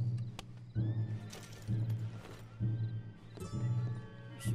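Horses in the video game Red Dead Redemption 2 neigh and snort in several loud bursts, close by, with hoof movement and light ambient noise between calls.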